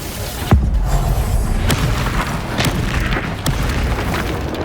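Bombarda explosion spells going off in Hogwarts Legacy, a deep booming blast followed by several sharp bursts spread over a few seconds, loud and close over a rumbling game background.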